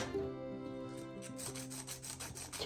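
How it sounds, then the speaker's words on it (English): A graphite drawing pencil lead is rubbed gently at an angle across sandpaper to sharpen it, giving a steady, soft, close rasping scrape that runs throughout with faint tonal background sound. "we're with the sandpaper now, and we're at an angle, gentle"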